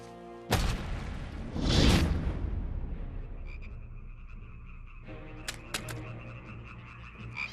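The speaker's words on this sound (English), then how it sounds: "And frogs came up out of the river and spread over the land" A sudden loud whoosh and burst gives way to a sustained chorus of croaking frogs, with a few sharp pops toward the end.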